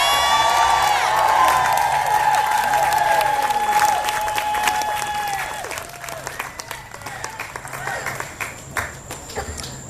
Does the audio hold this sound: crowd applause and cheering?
yes